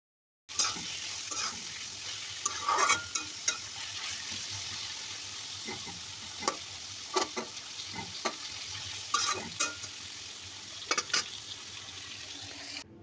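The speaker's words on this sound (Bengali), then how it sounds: "এখন আমি লাউ শাকটাকে আরও বেশ কিছুক্ষণ রান্না করে নেব" Bottle gourd greens with potato and beans are fried in a pan as a steady, close sizzle with scattered sharp scrapes and clacks of the spatula stirring the bhaji.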